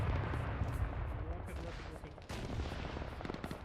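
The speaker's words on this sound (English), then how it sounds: "taking fire from Charlie 1" Dense gunfire in the military game Arma 3, rapid overlapping shots and bursts at mixed distances, with voices faintly beneath.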